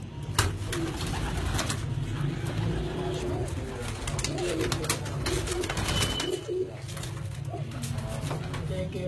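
Pigeons coo steadily close by in a loft of tournament racing birds, the low throaty calls repeating throughout with people talking over them.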